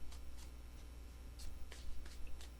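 A deck of tarot cards riffled and shuffled by hand in a quiet room, with soft, close bursts of papery flutter coming in quick repeated strokes.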